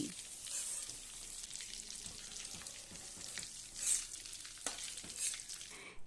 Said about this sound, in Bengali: উল্টে পাল্টে মোটামুটি 2-3 মিনিট আমি ভেজে নিয়েছি